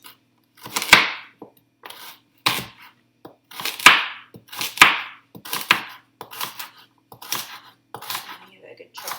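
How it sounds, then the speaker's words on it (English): A knife chops lamb pieces for slow cooker stew, producing a series of sharp, close, irregularly spaced thuds and knocks that vary in force. "And give it a good chop."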